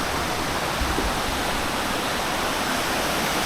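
Fairlawn waterfall in Upcot, Sri Lanka: a steady, full roar of falling water fills the scene without a break and without voices.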